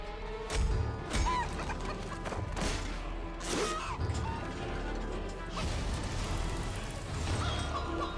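A chicken in Fable 3 clucking amid bursts of smashing and whacking impacts, with short squawks among scattered crashes over a busy game soundscape.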